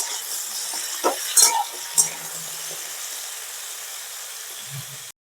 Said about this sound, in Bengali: এবার একসাথে এগুলোকে সব আমি ভালো করে ভেজে নেবো